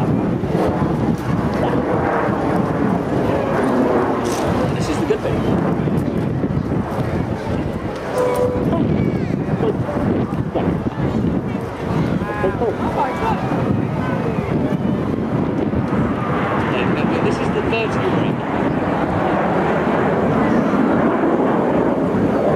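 Red Arrows jets roar continuously through a loop at an airshow in Folkestone, a loud, steady wash of engine noise with heavy wind buffeting on the microphone and commentary running over it.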